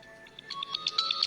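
A mobile phone ringtone chirps in a quick series of bright electronic tones at moderate loudness, heard during a devotional religious discourse gathering.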